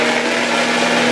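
A blender whirs loudly and steadily, close up, mixing sugar, apple juice and eggs into batter for a red cabbage cake.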